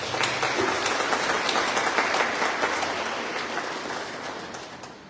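An audience at a religious ceremony of the Passionist Fathers claps steadily in a broad, even wash of applause that gradually fades toward the end.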